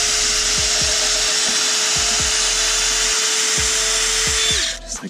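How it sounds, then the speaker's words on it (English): A power drill pre-drills a hole for a DIY solar panel stand, a loud, close, steady high whine running several seconds with faint rhythmic knocks beneath, then winding down at the end; no speech. "All right, so I pre-drilled it."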